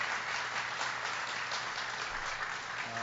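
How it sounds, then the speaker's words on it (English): Audience applause for Senator Ben Cardin at a presidential jobs and economy event in Maryland, a steady, dense wash of clapping from a large crowd that holds evenly throughout. "Give him a big round of applause."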